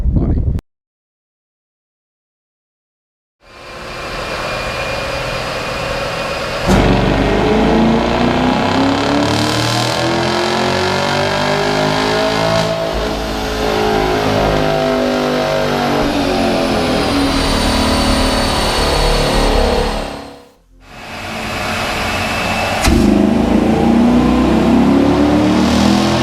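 A Camaro SS with a ported throttle body runs on a dyno and roars loudly through a long wide-open pull, its pitch sweeping up and then falling. The pull is cut off briefly by an abrupt silence, then a second loud rev follows.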